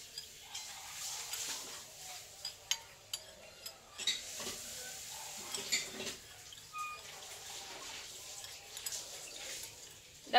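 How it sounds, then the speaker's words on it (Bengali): Sugar, salt and oil are stirred into hot water in a bowl, with soft swishing and intermittent clinks of a utensil against the bowl, faint and irregular. "চিনি লবণ আর তেলটা ভালোভাবে এইভাবে মিশিয়ে নেব গরম জলে"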